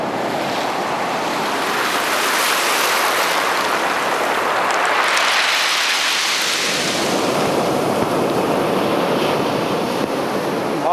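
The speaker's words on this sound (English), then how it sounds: "it all depends on the waves. The waves is bringing them in." Surf rolls in steadily on a beach in the aftermath of Hurricane Charley, broad roaring wash with wind gusting across it, loud and continuous with a swell building in the middle before settling; no voices.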